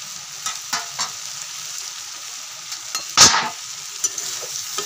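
Potato and cabbage masala is stirred as it fries in a kadai: a soft continuous sizzle broken by scattered spoon scrapes and taps, with one loud metallic clatter past the midpoint and no talking.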